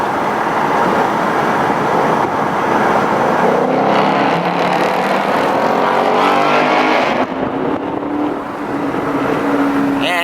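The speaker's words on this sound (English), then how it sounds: "Let's get a downshift under this bridge." A 2019 Camaro SS or Mustang GT V8 downshifts beneath a bridge, a loud, close, continuous engine roar with rising and falling revs echoing under the overpass and no talk.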